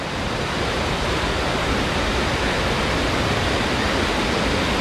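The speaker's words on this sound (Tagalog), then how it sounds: "naririnig nyo na ba yung lagaslas ng tubig?" Water rushes at Vera Falls on Mt. Malinao, Albay, a dense, continuous roar that stays loud and unbroken throughout, with no voices.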